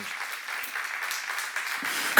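Congregation clapping at a church seminar, a dense even patter of many hands at moderate distance, continuous throughout and rising in a louder burst at the very end.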